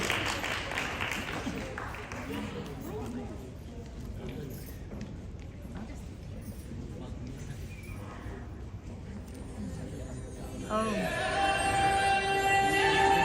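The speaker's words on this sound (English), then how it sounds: "A little bit of louder, longer applause." An outdoor audience at a Phagwah Holi celebration in Queens, New York, applauds in a long, steady crackle of many hands, with crowd noise underneath and a voice speaking near the end.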